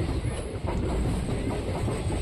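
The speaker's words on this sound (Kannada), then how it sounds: "ತುಮಕೂರಿಂದ ಯಶವಂತಪುರಕ್ಕೆ ಬರೋ ಮೆಮು ಟ್ರೈನ್ ಇದೆ ಇಲ್ಲಿ." A MEMU passenger train running from Tumakuru to Yeshwanthpur rumbles steadily nearby, its low continuous roar filling the short stretch, with no talking.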